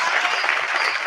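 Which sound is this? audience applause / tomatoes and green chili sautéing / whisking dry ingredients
audience applause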